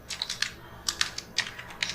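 Bursts of quick keystrokes on a computer keyboard as Bengali text is typed into MS Word, near and fairly quiet, with short pauses between clusters of taps and no talking.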